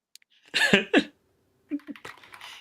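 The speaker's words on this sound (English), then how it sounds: "I'm typing in blueorigin.com." Typing on a computer keyboard in two short clusters of fast key clicks, close and fairly quiet, separated by a brief pause.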